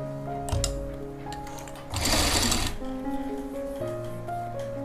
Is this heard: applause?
no